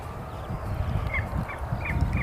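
A bird scarer device at an airport plays imitation bird calls, heard as repeated short squawking honks over a steady background rumble of wind and engines.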